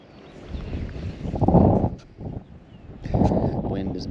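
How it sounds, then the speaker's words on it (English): Wind gusts at a small pond buffet the microphone in heavy rumbling surges that rise and fall, loud and close, with brief calmer gaps between blasts. "Wind is blasting."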